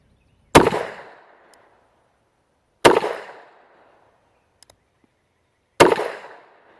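A Taurus handgun is fired double action at a steel silhouette 25 yards away: three loud, sharp shots spaced a couple of seconds apart, each with a short decaying echo and faint ringing between.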